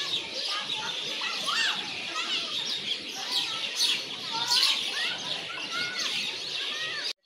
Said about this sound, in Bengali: পাখির ডাকটা খুবই ভালো লাগে।